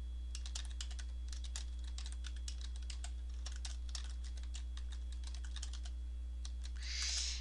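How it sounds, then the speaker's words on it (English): Typing on a computer keyboard, a quick irregular run of close, crisp key clicks over a faint steady hum, with a brief soft rustle at the end. "And begin typing."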